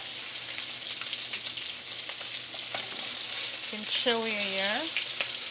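Lamb chops sear in a hot pan with a steady, close broadband sizzle throughout, while a voice speaks briefly near the end.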